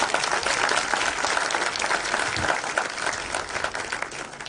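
Audience applause for Kenneth Ambani, a thespian and CEC of Mombasa, as dense, steady clapping from a large crowd holds throughout and eases slightly at the end.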